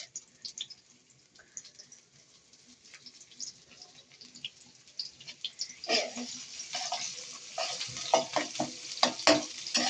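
Chopped onion and chili frying in oil in a pan: a quiet, scattered crackle at first, then a louder, steady sizzle with stirring scrapes from about the midpoint onward.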